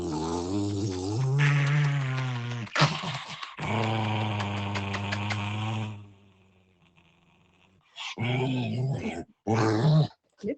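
A pet dog named Queen growls and whimpers in long, pitched vocal stretches that break off into a pause. A few short bursts follow near the end.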